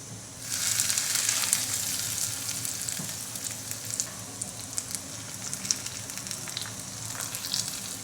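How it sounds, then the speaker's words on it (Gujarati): Hot tempering with curry leaves and a dried red chilli poured into coconut chutney sets off a steady, loud sizzle lasting several seconds, with faint stirring crackles and no talk. "હવે આપણે આ વઘાર છે તે ચટણીમાં રેડી દઈએ"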